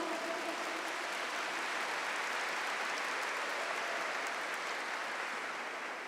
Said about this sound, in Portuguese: Vocês estão aplaudindo?